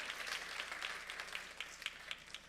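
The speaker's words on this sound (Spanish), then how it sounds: "Un aplauso al Señor." A church congregation applauds together in a dense, continuous patter of clapping that sounds faint and somewhat distant, with no talking over it.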